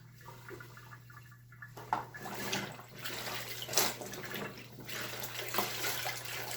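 Soapy underwear being rinsed under a running tap, a steady rush of water in a sink with splashy surges as the fabric is worked under the stream, close and continuous with no talk.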